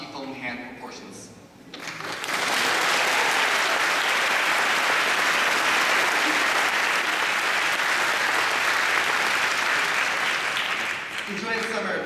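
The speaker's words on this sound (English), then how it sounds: "They deserve a round of applause of novelty phone hand proportions." Loud, sustained applause at a secondary school graduation ceremony, honouring teachers, parents and guardians. It swells in after a brief pause, holds evenly for about nine seconds and then begins to fade, with speech faint at the start and end.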